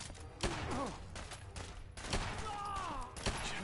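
Video game firefight during a Brotherhood assault, with bursts of gunfire cracking out in clusters amid shouted voices and battle noise, fairly loud and close throughout.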